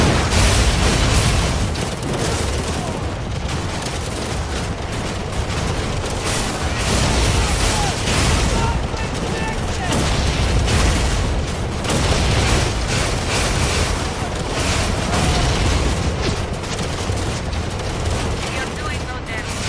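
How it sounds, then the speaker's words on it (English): Units in the video game EndWar open fire, with loud continuous gunfire, machine-gun bursts and booming explosions piling up throughout, while radio voices talk over the battle. "We open fire at enemy now"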